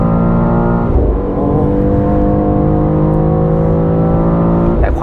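A BMW X4 M with its 510-horsepower engine accelerates hard, a steady, loud engine note that climbs in pitch throughout, close and clear with no talking.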